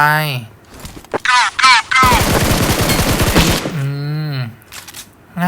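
Rapid burst of automatic gunfire from PUBG Mobile on the Livik map, a dense run of close, loud shots lasting over a second, with excited talk before and after.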